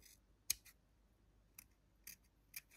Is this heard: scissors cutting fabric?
yes